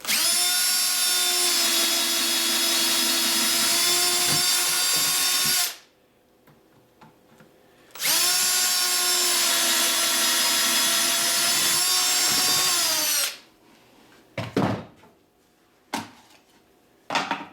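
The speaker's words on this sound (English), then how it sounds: "Clamp that on tight and drill another hole or 2." A power drill whines at high speed through wood in two long bursts, each several seconds, separated by a pause with light handling clatter, while assembling beehive boxes.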